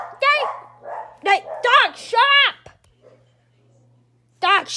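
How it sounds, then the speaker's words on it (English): A dog barks in several sharp, close bursts, some in quick pairs, then goes quiet before one more loud bark; a person speaks briefly at the start. "dog, shut up."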